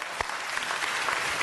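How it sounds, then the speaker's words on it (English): Short burst of applause at a city council meeting, many hands clapping in a dense, even wash with a few sharper claps near the start, fairly close and steady throughout. "Let's give Beacon House a round of applause."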